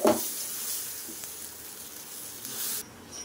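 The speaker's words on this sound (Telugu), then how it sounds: "ఇప్పుడు మనం దోశని వేద్దాం." Bottle gourd (sorakaya) dosa batter poured onto a hot, water-sprinkled pan, giving a loud burst of sizzling that settles into a steady hiss and then cuts off sharply near the end.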